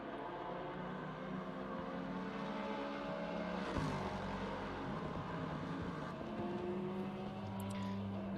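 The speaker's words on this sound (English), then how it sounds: "And lovely roar of the Lexus." A Lexus race car in Assetto Corsa Competizione roars steadily at high revs, a sustained loud engine drone with shifting pitch and a brief swell midway, with no voices over it.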